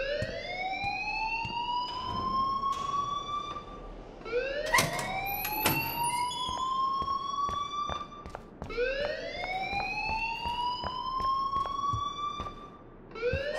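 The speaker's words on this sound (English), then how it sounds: "please turn off that alarm since that's your job" A fire alarm wails in the game Life is Strange, repeating rising sweeps roughly every four seconds, loud and continuous with sharp clicks and knocks between the cycles and no talk.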